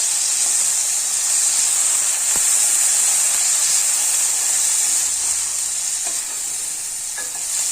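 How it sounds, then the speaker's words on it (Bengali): Green beans and potatoes tossed with turmeric, chili powder and salt in a hot pan give off a loud, steady sizzling hiss throughout, with a few faint scrapes of stirring. "মশলাটার সঙ্গে সবজিটা ভালোভাবে মাখিয়ে নেব।"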